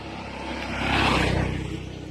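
A motorcycle ridden roughly along a road at night, its engine a steady close drone that swells louder in the middle and then eases back, with no voices.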